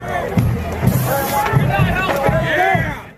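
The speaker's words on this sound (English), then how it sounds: "you can hear a crowd of several dozen charge a single man standing in front of the van" A crowd of several dozen at a Portland street protest surges at a lone man, with overlapping shouting voices and loud, chaotic commotion packed densely across a few seconds.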